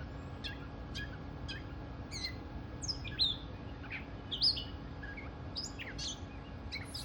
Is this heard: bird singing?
yes